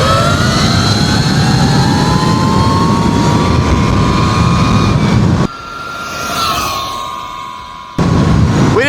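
A Tuttio electric bike with a Chai battery at full charge in its highest power mode screams away under hard acceleration, a loud rising motor whine that cuts out briefly, returns fainter, then surges back up close at the end.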